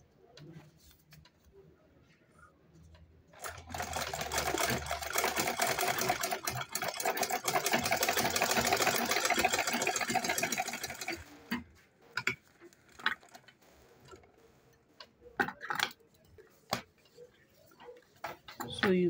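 A sewing machine top stitches a fashion bag in one steady, fast whirring run of about eight seconds, surrounded by quieter handling sounds, a voice talking and birds cooing in the background.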